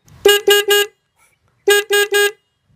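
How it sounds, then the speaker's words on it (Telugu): Two bursts of three short, loud horn beeps each, close and sharp, separated by a brief silence, from a 2026 KTM Duke 390 motorcycle horn. "హార్న్ అనేది ఫస్ట్ ఇంప్రెషన్ లో చాలా లౌడ్ అయితే ఉంది."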